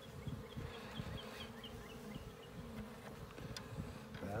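Honeybees buzz steadily in a backyard comfort hive opened for a spring inspection, a dense close droning swarm that holds at an even level throughout with no voices.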